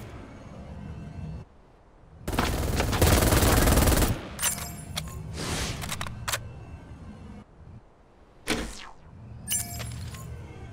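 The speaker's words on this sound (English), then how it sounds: "I hear gunfire." Weapon fire in the mech battle video game Super Mecha Champions: a dense burst of rapid automatic fire, then scattered sharp shots, impacts and clanks of varying loudness across the clip.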